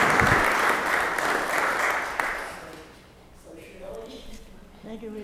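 Applause in a city council chamber, a loud wash of clapping for the first couple of seconds that fades away, leaving quieter room sound.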